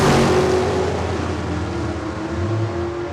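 Drag race launch at Saskatchewan International Raceway in Saskatoon, a Cadillac station wagon against an 85 Camaro, loud engine roar sustained throughout with a second engine note rising near the end.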